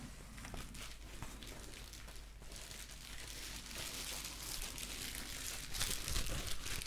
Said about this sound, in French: Il ne faut pas jeter ce papier bulle